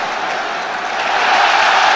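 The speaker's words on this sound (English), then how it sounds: "Now the crowd are finding their voice now" A football stadium crowd at an SK Brann versus Everton match gives off a broad, steady roar that swells louder partway through, a dense wash of massed voices from a large audience.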